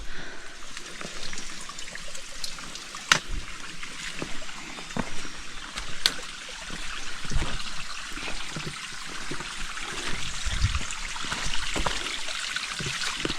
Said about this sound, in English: I'm pretty sure this is the stream before the campsite